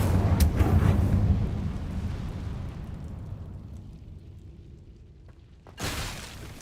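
The Incendio fire spell from Hogwarts Legacy erupts in a loud whooshing burst that slowly fades into a low rumble, then a second sharp burst of flame near the end.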